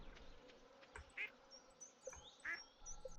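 In the farming video game Stardew Valley, a duck quacks twice, faint and brief, at an even spacing over a soft ambient background.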